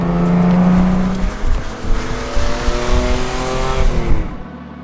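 A 1972 Ford Capri RS 2600 accelerates close by, its engine note climbing loudly and steadily through the revs before easing off abruptly at the end.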